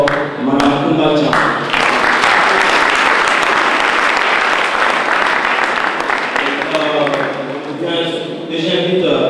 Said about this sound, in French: Je vous prie d'acclamer très fort Madame Koumbacha